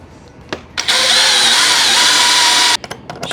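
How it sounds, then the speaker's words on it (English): A power drill boring a pilot hole into a small piece of wood, a loud, close, high whine lasting about two seconds with short clicks and bumps before and after. "this time, we're gonna drill a pilot hole so it doesn't split in half"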